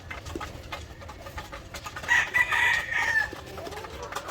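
Five-year-old White Leghorn breeder chickens on a farm, clucking and calling at close range, with a louder, drawn-out crowing call in the middle over a soft background of farmyard noise.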